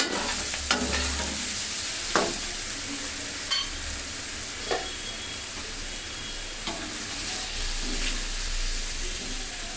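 Chicken pieces frying in hot oil in a pan, with a steady broad sizzle throughout and several sharp scraping stirs of a utensil at irregular intervals, close and alone.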